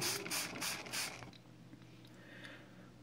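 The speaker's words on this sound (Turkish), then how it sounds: "Bir sprey yardımıyla şu şekilde nemlendiriyoruz." A handheld spray bottle mists germinating millet bird feed seeds up close, giving four quick hissing pumps followed by quiet room noise.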